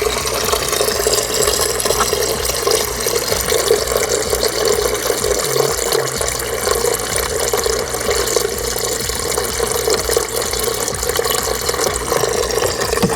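Coolant drains steadily out of the 1.8 20VT engine of a VW Polo 9N3 GTI, a continuous trickling, splashing wash of liquid that stays even and fairly loud throughout with no voices over it.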